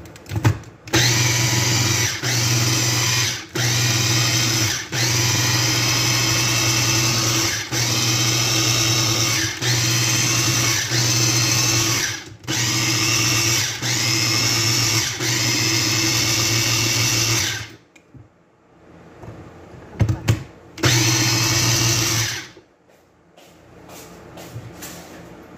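A blender purees baby food, whirring loudly and steadily for a long stretch with brief dips, then stops, leaving a few clinks and bumps.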